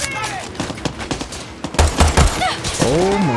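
Rapid gunfire with heavy recoil in the video game Far Cry 6, dense bursts of shots crackling close and loud over game sound, with a person talking and exclaiming through it.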